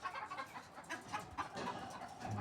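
Several chickens cluck and murmur nearby in a large coop in Wafra, Kuwait, soft overlapping calls in an irregular rhythm against a quiet background.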